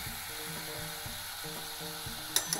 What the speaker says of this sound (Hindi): देखो फ्रेंड्स, हमारा ये दही भी इसमें भून गया।